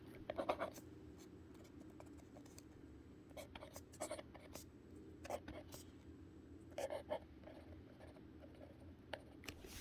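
Pen or pencil writing on paper while rewriting a chemistry diagram: faint scratchy strokes in short bursts with pauses, close and quiet over a low steady room hum.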